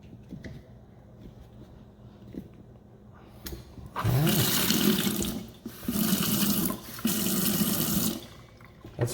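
A repaired Delta sink faucet runs, rushing water in loud bursts that switch on and off several times after quieter handling noises, close up, with no voices.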